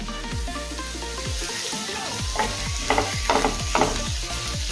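Onion and garlic stir-fried in a pan for paneer 65, a steady sizzle with repeated spatula scrapes and stirring strokes, growing busier toward the end, close and fairly loud.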